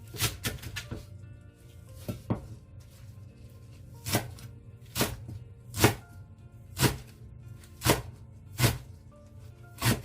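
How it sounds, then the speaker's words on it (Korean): A knife chops fresh buchu chives (Korean garlic chives) on a cutting board for an oyster-and-chive pancake: a quick burst of cuts, then steady single knocks about once a second, sharp and close. "부추를 썰어주는데 두 가지 방법으로 썰어 볼게요"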